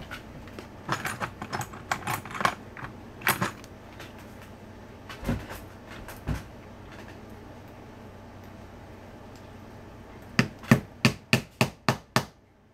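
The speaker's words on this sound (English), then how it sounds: "Now I just need to find my rivet setter." A rivet setter is struck to set a rivet on a satyr horn headdress. Sharp impacts come in scattered bursts early on, then a quiet stretch, then a fast run of six loud, evenly spaced blows at the end.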